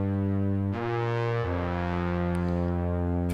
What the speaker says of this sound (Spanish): Son como trompetas, pero hechas sintetizadores básicamente